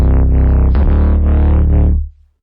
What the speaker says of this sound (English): This is a fat bass